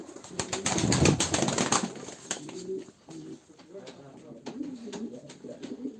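Pigeons cooing at a live Turkish pigeon auction of tumbler show birds, low murmuring coos mixed with wing sounds and someone talking over them, louder in the first two seconds then softer.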